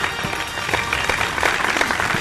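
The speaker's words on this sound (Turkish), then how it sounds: "Evet, alkışlarımızla Atilla Taş diyoruz." An audience breaks into applause to welcome a guest on stage, a dense, steady wash of clapping close by, lasting about two seconds with no talk over it.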